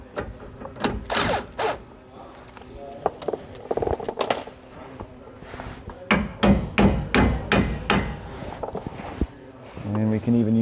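A hammer drives a bushing out of a suspension eyelet while a Dexter E-Z Flex suspension kit is fitted on a 2021 Grand Design Imagine trailer, with loud close metallic taps in irregular bursts and a quick run of strikes near the end.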